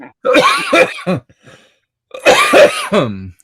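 Two bursts of harsh, close coughing, each a quick cluster of hacks with a throat-clearing rasp, separated by a short silence.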